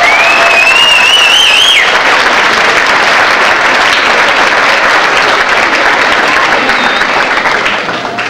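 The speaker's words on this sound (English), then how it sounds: "Let's give them another round of applause." Audience applauding at a 1997 school concert in Brockton, Massachusetts, dense sustained clapping filling the room for about eight seconds, with a brief whistle near the start before fading slightly at the end.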